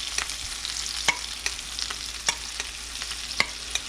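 Butter being stirred over red skin potatoes and carrots with a little fresh rosemary in a hot pan: a steady sizzle with regular scraping strokes of the utensil, close and clear, no voices.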